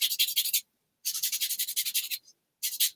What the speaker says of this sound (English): Just going to give that a little sand.